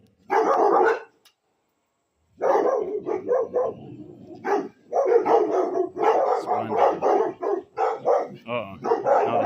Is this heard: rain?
no